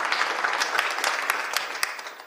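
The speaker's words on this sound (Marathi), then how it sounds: "टाळी वाजवा एक बार त्यांच्यासाठी" Applause from the crowd at an akhand harinam saptah devotional gathering, a dense patter of many hands clapping at a steady level, with a few sharper claps standing out near the front.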